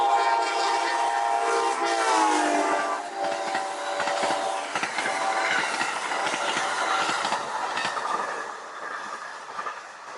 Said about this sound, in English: And just like every small town, we have the train zooming by.